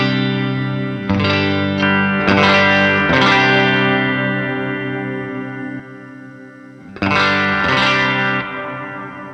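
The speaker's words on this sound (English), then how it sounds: "bring the wow and flutter kind of down, maybe just right below 1, but bring the saturation up somewhere around 2" An electric guitar plays through an HX Stomp with tape saturation and a light wow and flutter effect: sustained chords and picked notes ring warm and slightly wavering, with a fresh strum near the end.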